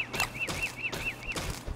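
A live crow held in a bird trap in the Don't Starve video game gives a string of short, repeated cartoonish squawks in a regular rhythm, loud and close, with no talking over them.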